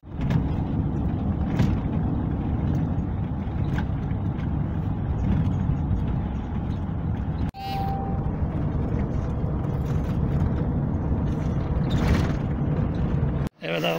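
Steady low engine rumble and road noise inside a moving dolmuş shared minibus bound for Kastamonu, continuous and fairly loud with brief cutouts, a faint tone and a couple of thumps.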